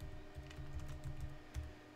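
Quick keystrokes on a computer keyboard while tabbing between form fields, a soft, close run of light clicks over a faint steady hum, with no talk.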